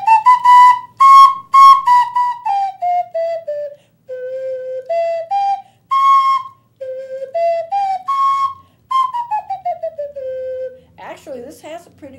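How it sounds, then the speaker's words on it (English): A tone whistle plays a simple melody of clear, steady notes stepping up and down like a scale, near and fairly loud, each note separated by short breaths, ending with a brief burst of other sound. "Here we have a tone whistle."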